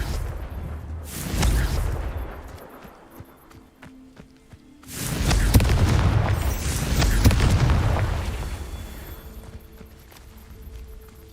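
Confringo fire spell blasts in the Hogwarts Legacy game, two loud booming bursts a few seconds apart, each followed by a rumbling roar that slowly fades.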